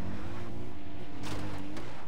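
In the video game Far Cry 4, a car engine drones loudly and steadily as the vehicle drives, its pitch shifting slightly as it revs.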